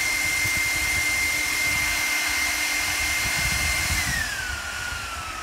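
A Dell PowerEdge R210 server boots with its fans roaring at full speed, a loud steady whoosh with a high whine that drops in pitch near the end as the fans begin to slow.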